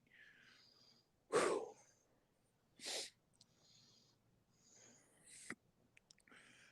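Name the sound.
abnormal wheezing breathing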